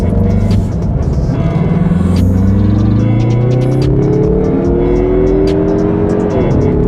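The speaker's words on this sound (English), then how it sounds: "we're going to do an acceleration of" A 2023 Mazda 3 Turbo hatchback accelerates hard, its engine note climbing steadily in pitch over several seconds with a brief shift near the end, loud and close with no talking.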